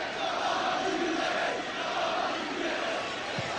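Big football crowd at a Nottingham Forest match against Liverpool, a steady broad roar of many voices rumbling continuously at a distance with no single voice standing out.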